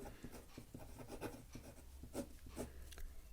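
Pen writing on paper for a class 10 mathematics test solution, a quiet, close series of short scratchy strokes in an irregular rhythm, with no talking.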